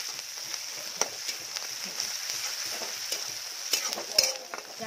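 Garlic and green chili fry in hot oil with a constant crackling sizzle, punctuated by sharp metallic clicks and scrapes of stirring close by.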